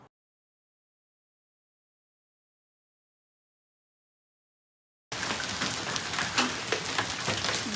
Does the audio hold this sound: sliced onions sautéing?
no